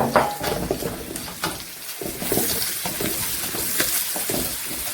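Steady sizzling of mushrooms frying in a pan for fried rice, with occasional scrapes and clinks of a utensil stirring, close up.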